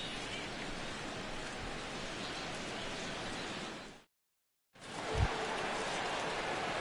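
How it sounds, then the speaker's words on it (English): Rain falling on a ballpark during a 1975-season game in MLB The Show 16, a steady, even hiss of downpour that briefly drops to silence and then resumes at the same level. "the rain continues to fall here"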